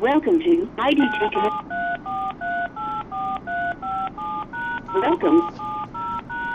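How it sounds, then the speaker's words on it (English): Touch-tone keypad beeps from dialing into a conference call, a steady run of about fifteen evenly spaced dual-tone presses, close and clear, with a voice speaking briefly over the start and again partway through. "I'm gonna dial in"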